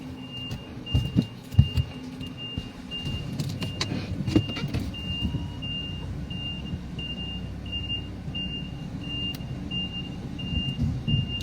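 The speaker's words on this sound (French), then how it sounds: "Un gros camion comme ça là, mon frère. Il manœuvre comme ça là, en marche arrière." A big truck backs up and maneuvers in reverse, its steady reversing beeper repeating at an even rhythm above a low engine rumble, with street noise and occasional knocks early on.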